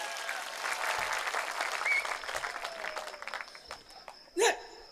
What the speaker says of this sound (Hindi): यार एक बार जोरदार तालियां बजाओ।